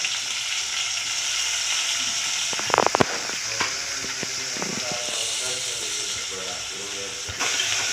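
Onion, tomato and field beans fry in a pan with a steady hiss and sizzle, broken by a few close clinks and stirring clatters midway, while faint voices murmur in the background.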